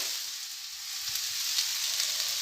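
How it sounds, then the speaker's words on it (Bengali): Potatoes and lentils fry in a pan, cooked outdoors on a rooftop, with a steady, close, bright sizzle that continues evenly throughout and no voices. "এবার ভালো করে মিক্স করে নেব আর একটু ভেজে নেব"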